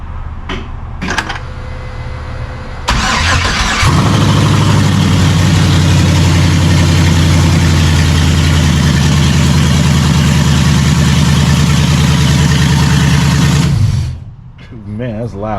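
A 1968 Fastback lowrider's swapped LS1 V8 cold-starts with straight headers and no exhaust, catching after a few brief cranks, then holds a loud, raw, rumbling idle for about ten seconds before cutting off.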